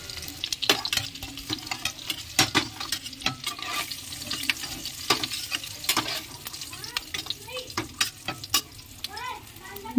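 Country eggs fry in hot oil in a pan for an egg curry, a steady crackling sizzle broken by repeated scraping and stirring clatters close to the pan.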